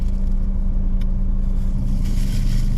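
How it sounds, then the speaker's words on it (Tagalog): Continuous traffic rumble on Aguinaldo Highway near Bacoor, cars heading toward Manila, with a nearby engine building slightly in the final second, loud and steady with no talking. "papuntang Manila itong mga sasakyan kasalubong ko"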